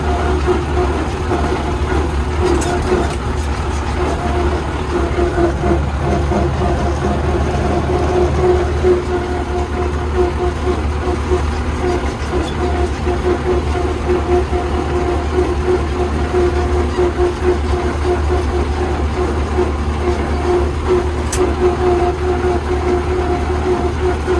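A Massey Ferguson tractor's diesel engine runs steadily in hot summer weather, a continuous low rumble with a droning hum that holds at a constant level throughout, with no speech over it.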